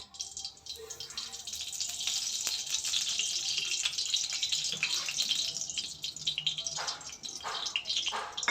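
Two spoons of ghee heat in a hot wok for semolina pantua, making a faint, continuous sizzle and hiss with a few louder crackles toward the end.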